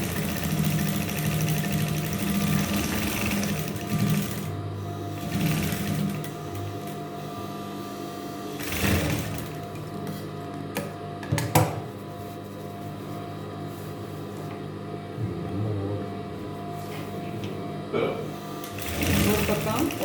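A sewing machine stitches a strong double-folded seam in jute fabric, its motor running in steady bursts with short pauses, close and clear, while a person talks over it.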